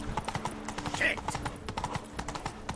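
Hooves of Roach, the horse in a PS4 game, clip-clop in a quick rhythmic gallop, with brief game effects and voices mixed in.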